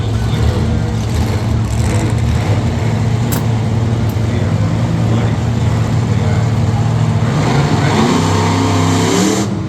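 Monster truck engine, the Virginia Giant, revving loud and steady at Friday time trials at a fairground in Middletown, NY, a continuous heavy roar that swells near the end.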